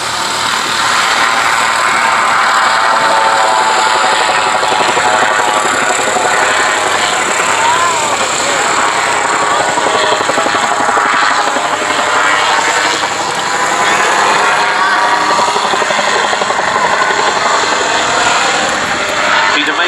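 An autogyro at the East Kirkby airshow in Lincolnshire, making a spiralling descent with a loud continuous rotor and engine drone that swells and fades slightly over the whole stretch.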